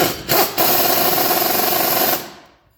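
A power tool tightens the nuts on the front sway bar links of a Chevrolet Silverado, a short whirring burst followed by a steady buzzing run of about two seconds that stops abruptly, close up and with no voices.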